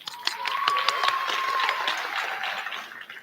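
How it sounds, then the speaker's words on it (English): An audience at a high school graduation ceremony claps in a brief burst that stays fairly even for about three seconds, then begins to thin out. "Round of applause for him."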